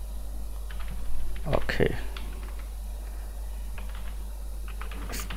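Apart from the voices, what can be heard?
typing sticky notes into a search box on a keyboard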